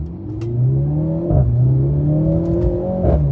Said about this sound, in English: Listen to these shifts.